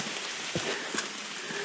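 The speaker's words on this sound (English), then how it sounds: "And yes, it's still raining" Rain falls steadily on the surroundings during a wilderness backpacking hike in the Dolly Sods, a dense hiss with a few distinct drop patters, close and continuous with no speech.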